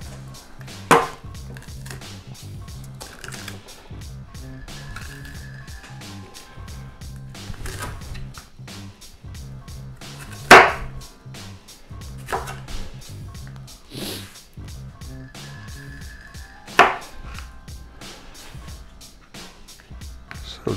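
Bell peppers are cut into chunks for homemade salsa, with a knife striking the cutting board in irregular, scattered chops across the clip, several of them sharp and distinct over a quiet room background.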